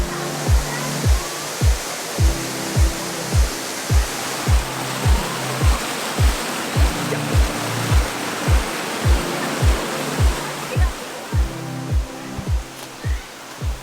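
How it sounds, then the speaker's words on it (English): A waterfall near Auckland roars as a dense, steady rush of falling water, loud and close, with a rhythmic series of low thumps pulsing through it and no talk. "with it's the all- waterfall. Yeah, that was sick."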